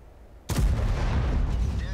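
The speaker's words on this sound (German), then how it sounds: "Da fliegt der Schuss eigentlich perfekt" A tank cannon fires in the online game World of Tanks as a single sudden loud blast, followed by a sustained rumbling boom and echo that fills the rest of the moment.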